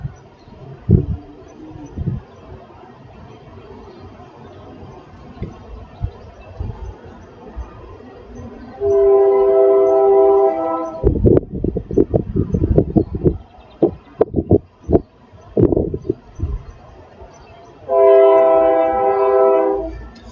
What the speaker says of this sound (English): So can y'all hear that horn in the chat?